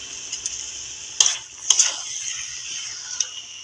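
Potatoes and chicken stir-fried together in a pan, with a steady sizzle under a few sharp spatula scrapes and clinks against the metal.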